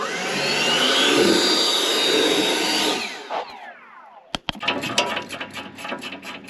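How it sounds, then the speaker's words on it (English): Compressed air roars loudly through a bulldozer air filter for about three seconds to blow out dirt, then stops, followed by scattered knocks and handling noises. "I want to blow the dirt back in the filter out."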